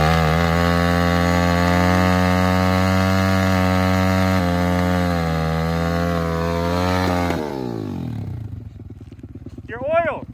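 A pit bike engine revs hard and continuously during a tire burnout, loud and close, then the pitch drops away as the throttle is released near the end.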